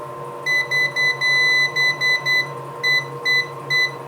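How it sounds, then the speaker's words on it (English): Electronic dehydrator timer beeping in short, bright, evenly spaced pulses with a few longer tones, close and clear over a low steady appliance hum. "that's a really irritating beep beep."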